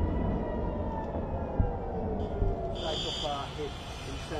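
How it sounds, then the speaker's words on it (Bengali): An air raid warning siren in Israel, heard in Tel Aviv and Jerusalem, holds a steady wailing tone at moderate distance, with voices and background commotion mixed underneath. "ইসরায়েলের তেলাভিভ ও জেরুজালেমে সতর্কতামূলক সাইরেনের শব্দ শোনা গেছে।"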